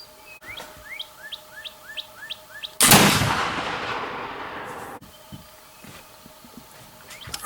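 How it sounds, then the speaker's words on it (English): A Kibler Woodsrunner muzzleloading rifle fitted with a new barrel fires once outdoors, a sharp loud blast with a long decaying rumble, while birds chirp repeatedly before and after the shot. "So let's just see how this barrel's going to shoot."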